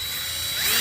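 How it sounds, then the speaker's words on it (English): A power drill bores holes into an aluminum boat hull while fitting boat wheels, giving a steady high-pitched whine that builds slightly louder toward the end of the short burst. "I'm gonna drill some holes and then we'll do the next step."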